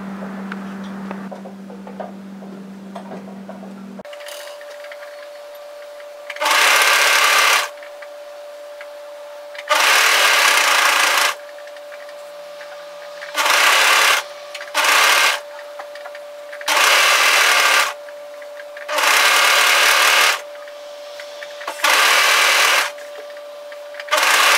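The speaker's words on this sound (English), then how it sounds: "Right, so I'm going to stitch my neckband down" A plain domestic sewing machine stitches a chiffon neckband down, running in several bursts of a few seconds each with short pauses between, close and steady with no talk.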